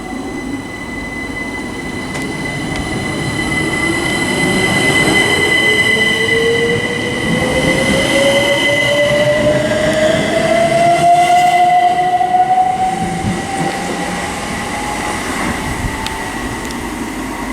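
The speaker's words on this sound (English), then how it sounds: "departing now is 387146 on the 1513 Great Western Railway service to Newbury" Great Western Railway electric unit 387146 pulls away on a Newbury service, a rising traction whine climbing steadily in pitch over a steady rumble of wheels on rail, with a sustained tonal hum throughout.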